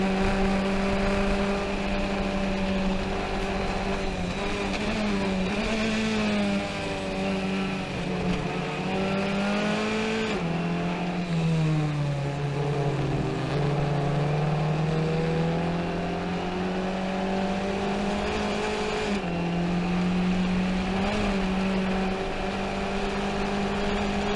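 Race cars on the Summit Point circuit, heard from on board as a loud, steady engine drone that rises and falls with shifting and cornering, with other cars' engines alongside, continuous throughout.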